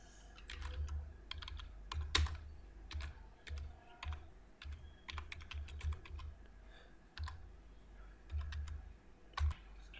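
Fingers typing a short phrase on a computer keyboard, close and fairly quiet, with irregular bursts of key clicks separated by brief pauses, no voices present.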